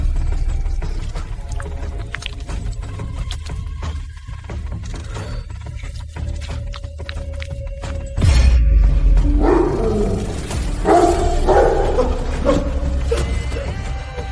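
An enormous rabid dog lets out loud, harsh barks and roaring snarls in the second half, bursting in over a steady low rumble and faint mechanical clatter that fill the quieter opening.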